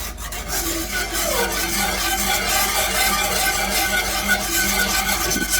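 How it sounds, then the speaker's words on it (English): Continuous scraping and rubbing of a whisk against a pan as beef broth gravy made from Better Than Bouillon base is whisked smooth, loud and close with no talking. "Let's keep whisking until our lumps disappear."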